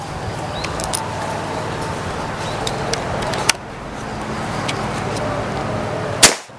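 A Predator Ghost Warrior PCP air rifle charged to 2700 PSI fires with a single sharp crack near the end, following a softer click midway, against steady outdoor ambient noise.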